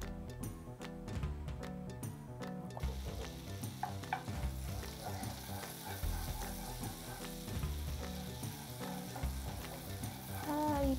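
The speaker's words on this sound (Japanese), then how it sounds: "フライパンにバター、刻んだニンニク、 はい、火をつけます。" Butter and chopped garlic sizzle in a frying pan over medium heat, a steady close crackle running throughout with soft clicks and stirring scrapes, no voices.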